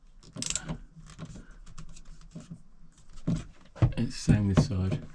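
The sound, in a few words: loosening the clips on a motorhome skylight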